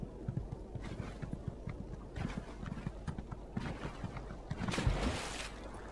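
Rapid, rhythmic horse hoof clip-clops at a quick gait in The Elder Scrolls Online, fairly loud and close, with a brief thud near the end and no talking.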